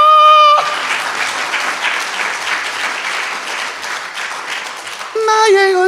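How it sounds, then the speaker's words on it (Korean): A church congregation bursts into steady applause during a Sunday sermon, a dense sustained clapping that fills the space for several seconds, with sung or spoken voice briefly at the start and end. "박수!"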